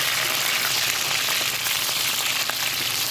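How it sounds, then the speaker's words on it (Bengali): Pointed gourd (potol) frying in oil in a Bengali home kitchen, a steady dense sizzle with faint crackles running continuously and fairly close, with no voices over it. "পটলগুলো খুব ভালো করে ভাজতে হবে"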